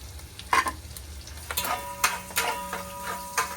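Ginger, garlic and green chilies frying in hot oil in a pan, a soft steady sizzle broken by scraping stirs and light clicks, close and moderately loud with no talking.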